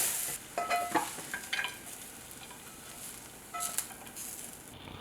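Sweet potato hash is tossed in a frying pan, giving soft sizzling under bursts of scraping and rattling of the utensil, with two clusters of stirring separated by a quieter stretch of faint frying.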